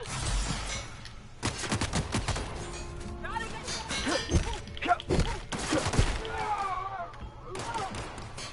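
Bursts of gunfire and impact thuds from a firefight in The Outer Worlds video game, shots coming in rapid clusters over loud, cluttered game effects.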